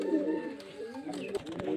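A running pair of Giribaj pigeons, the hen carrying eggs, coos close by in low throaty calls, with some clicks and shuffling sounds near the end.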